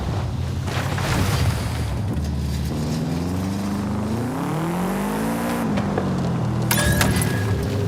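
A car engine in Forza Horizon 5 drones steadily, its pitch rising and falling as it revs, with a brief high squeal near the end.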